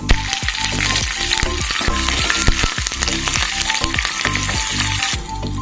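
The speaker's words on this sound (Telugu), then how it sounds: "పోపు గింజలు వేగినాక అలాగే కర్రీ లీవ్స్ వేసేసుకుందాం" Loud, steady sizzling of curry leaves frying in hot tempering oil, with crackling pops and a few clinks of a utensil throughout.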